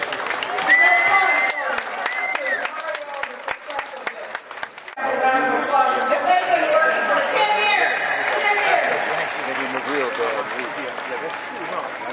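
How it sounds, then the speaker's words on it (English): Audience at an unveiling ceremony claps, first scattered and sharp, then swelling into fuller applause mixed with crowd chatter and cheering voices. "I'd like to give all of our electives and those who've been behind the scenes a round of applause again."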